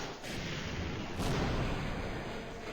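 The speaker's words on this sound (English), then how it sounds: "Now we have to shoot that thing right there." Heavy gunfire against the final boss in Half-Life Source on the Xen level, a dense roaring barrage with sharp booming bursts near the start and after one second, loud and continuous without talk.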